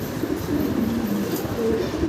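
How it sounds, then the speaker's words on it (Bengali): Low, murmuring coos from Danish pigeons roll on over a steady wash of background noise, with no talking. "এই চার পিস ড্যানিশ কবুতর"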